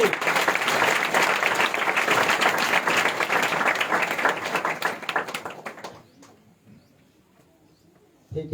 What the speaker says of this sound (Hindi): एक बार जोर से ताली बजाएंगे